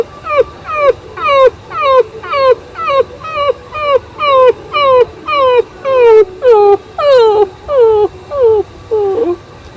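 A man imitates a puppy's whimpering with his voice, giving about fifteen evenly spaced, high, falling whines that are close and loud, each separated by a short pause.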